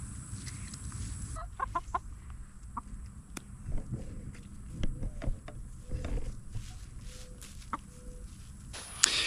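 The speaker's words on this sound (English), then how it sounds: "our blue tint Plymouth Rock chickens, just gorgeous" Blue tint Plymouth Rock chickens on a ranch give soft scattered clucks and murmurs at low level over steady outdoor background noise.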